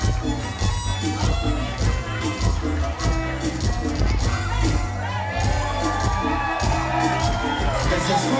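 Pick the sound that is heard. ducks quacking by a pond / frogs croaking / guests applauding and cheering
guests applauding and cheering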